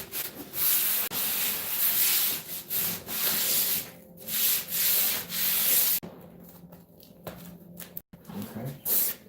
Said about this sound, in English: this is all Velcro, putting heavy Velcro down so we can